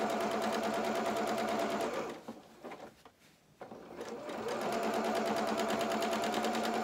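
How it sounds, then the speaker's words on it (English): A sewing machine stitches fabric in short bursts, running steadily, pausing briefly mid-clip while the fabric is rolled, then resuming its close, even whirring rhythm. "sew a bit, roll it, sew a bit, roll it."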